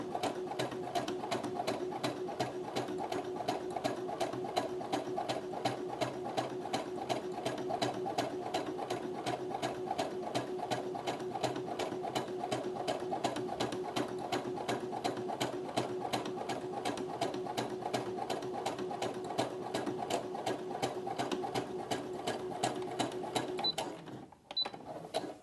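A Brother sewing machine stitches a flat felled seam with a bi-level foot, its fast needle rhythm running steady and unbroken, close and fairly quiet, before stopping briefly near the end.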